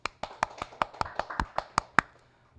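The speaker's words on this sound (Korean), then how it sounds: "박수" A run of about ten crisp, close hand claps or snaps, spaced roughly evenly and spread over a couple of seconds, the last one loudest, heard alone in a quiet room.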